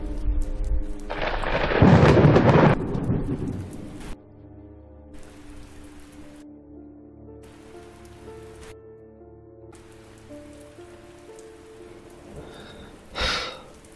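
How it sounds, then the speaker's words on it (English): Rainstorm with thunder in an animated motion comic: a loud rumbling burst of thunder and rain opens, then quieter steady rain continues with abrupt drops in sound, and a brief sharp crack near the end. "I rather like rainstorms."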